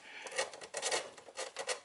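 A file rasps back and forth over a plastic toy blaster part to smooth it, a steady series of close, scratchy strokes with a brief pause between passes.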